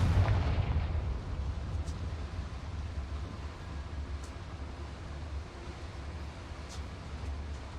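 In Hogwarts Legacy, a Confringo fire spell explodes with a deep boom that fades into a low rumbling tail, followed by a few faint distant pops, fairly quiet overall.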